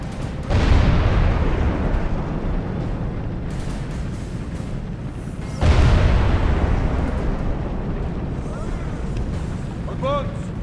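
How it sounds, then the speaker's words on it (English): Cannons fire in Medieval 2: Total War, two heavy booming blasts a few seconds apart, each trailing into a long rumbling roar with battle noise, voices and commands faintly beneath. "Load the cannons and fire at them point blank."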